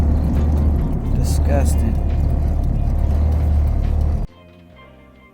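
Honda Civic with an H2B engine heard from inside while driving, a loud steady engine drone and road rumble that cuts off abruptly near the end. A person speaks briefly over it.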